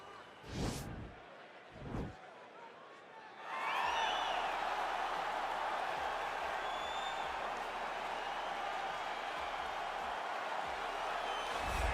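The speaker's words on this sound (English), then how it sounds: "Well, you hear the pop from the crowd, DC, as Nate Diaz gets set to make this walk" Two dull thuds, then a large arena crowd in the UFC 4 video game erupts into sustained cheering and applause that roars steadily on, with occasional whistles and whoops.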